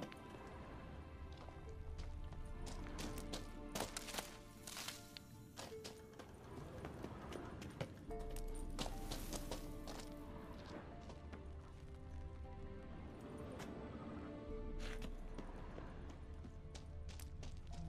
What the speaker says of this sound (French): Un autre cheval. Presque identique au précédent.